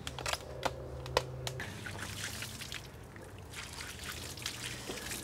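Water trickles and splashes onto a freshly cut pecan wood slab, making a soft, continuous dribbling patter with a few sharp taps and clicks mixed in at low volume.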